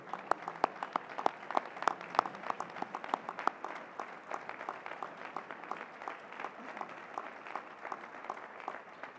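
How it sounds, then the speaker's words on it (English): Steady applause from an audience honoring a project implementation team at a grand opening celebration, many hands clapping evenly throughout, moderately distant with little speech. "please give yourselves a round of applause"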